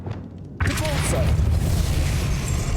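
The Depulso force spell fires in Hogwarts Legacy: a quiet lead-in breaks into a sudden booming blast, followed by a heavy, sustained rumble that holds to the end.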